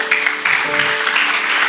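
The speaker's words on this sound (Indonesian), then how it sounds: "Ini tepuk tangannya" Church congregation clapping at a 53rd anniversary service, a short dense burst of applause with a faint sustained musical tone underneath.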